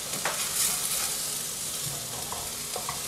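Scrambled egg sizzling in a very hot skillet, being moved around during cauliflower fried rice prep, with a steady broadband fry hiss and a few soft stirring scrapes; no talking.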